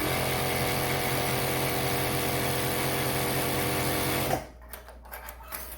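A Sambong CT6500/CT9000 two-needle sewing machine runs through folded fabric with a loud, continuous mechanical whir for several seconds, close up, then stops abruptly, followed by a few faint handling clicks.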